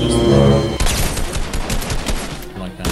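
A rapid burst of loud gunshots in a video game, fired in quick succession close up, with a voice speaking briefly over the shooting.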